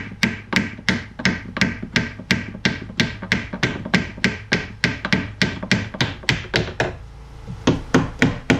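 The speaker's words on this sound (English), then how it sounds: "So just get that nailed on." Nails are hammered into wood to seal a window on an off-grid roundhouse build, a close run of sharp, evenly spaced blows, about two to three per second, with a short pause before a final few strikes.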